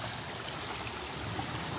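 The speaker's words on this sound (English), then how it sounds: "It's kind of a shallow creek, but I think there's some deep areas." Water flowing along a shallow creek, a steady broadband rushing and trickling sound, continuous and fairly close, with no voices.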